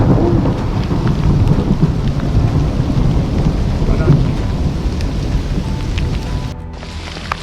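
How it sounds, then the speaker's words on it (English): Loud heavy hailstorm with thunder on a mountain pass, a dense pounding roar of large falling hailstones and rain with deep rumbling, continuous and close. "It is hailing."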